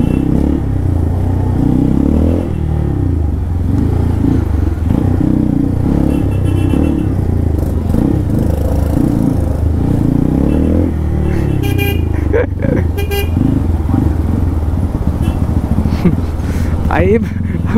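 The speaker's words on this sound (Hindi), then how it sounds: "भाई एग्जॉस्ट तो भैया का ही बहुत था।" A Royal Enfield Hunter motorcycle revs its exhaust on a busy market street, a loud, rough engine roar running steadily under constant crowd chatter and nearby voices.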